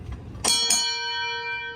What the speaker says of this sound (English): My girlfriend hates that bell.